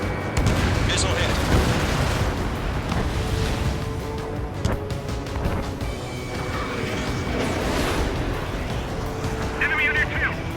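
Missile hit in Ace Combat 7 aerial combat: a continuous roar of jet engine and battle noise with heavy booming impacts and crashes, under radio voices talking throughout.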